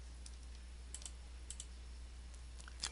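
Computer keyboard keys are typed while entering a value into an Excel spreadsheet cell, a few sparse, soft clicks in short clusters over a faint steady hum.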